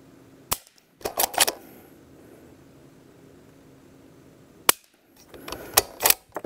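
Suppressed rifle shots with subsonic ammunition, Q Mini Fix and Ruger American with suppressors, sharp close cracks: one, then a quick cluster, a long quiet pause, then another shot and a final burst of several.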